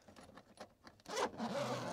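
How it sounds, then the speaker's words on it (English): The fabric zipper door of an Alu-Cab Khaya four-person camper, a few light rustles followed by one long, close, loud zip being pulled open. "Same zipper door on this side"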